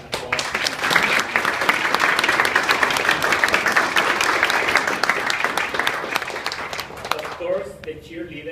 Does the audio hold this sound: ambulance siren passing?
no